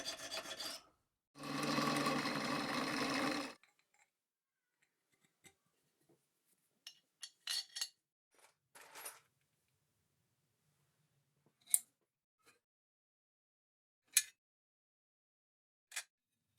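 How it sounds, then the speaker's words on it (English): Square section aluminium bar being worked by hand for a homemade joystick controller: one loud, steady rasping cut of about two seconds, then scattered light scrapes, taps and a few sharp clicks spaced apart in a quiet room. "I cut a piece of square section aluminium bar and drilled an 8mm hole all the way through."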